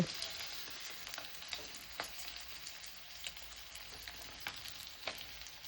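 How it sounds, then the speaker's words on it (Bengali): Bhetki fish pieces frying in oil in a pan, a faint steady sizzle dotted with small crackling pops throughout. "ভালো করে মাছগুলো ভেজে নিয়েছি একটা একটা করে তুলে নেব"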